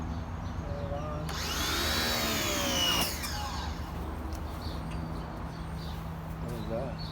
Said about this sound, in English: let me test out my pressure washer on these back mats